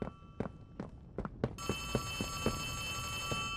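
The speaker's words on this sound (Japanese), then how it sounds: "てか電話来てんだけど。" An old-style telephone bell rings steadily in Poppy Playtime Chapter 3, beginning partway in as a bright sustained trill that continues to the end, with heavy thudding footsteps and thumps beneath it from the start.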